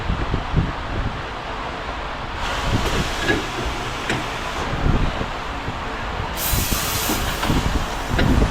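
Air hisses steadily from a compressor line as someone inflates a tire on a Honda FK8 Civic Type R. The hissing comes in long bursts and grows louder as it goes, with clanks and handling noises underneath.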